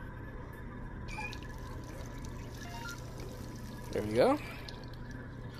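Water running from a sink tap into a kettle in the Job Simulator VR game, a short rising pour heard under someone talking and faint background hum.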